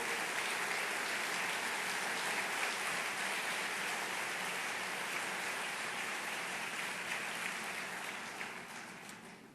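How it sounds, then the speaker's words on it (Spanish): A large audience applauds steadily for a speaker's parents at a youth event in Peru, with dense, even clapping held for about nine seconds before it begins to fade at the end. "quisiera ese aplauso para mis padres"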